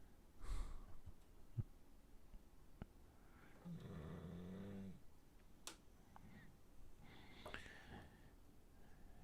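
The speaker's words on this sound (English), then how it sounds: "I have a problem because my dog snores." A dog snoring softly nearby, slow rhythmic breathy snorts with one longer rumbling stretch in the middle, faint and close, with a few small clicks and rustles around it.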